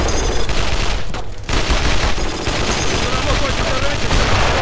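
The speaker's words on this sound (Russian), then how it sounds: "Продолжай стрельбу!" Intense WWII battle gunfire from the Brothers in Arms: Road to Hill 30 video game: rapid machine-gun bursts and rifle shots crackle loudly and almost without pause, with voices mixed into the din.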